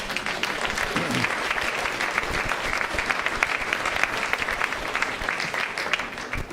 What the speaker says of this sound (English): every time I diss evidence-based outcomes, you always get applause